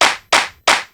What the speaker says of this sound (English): This clap originally sounded like this.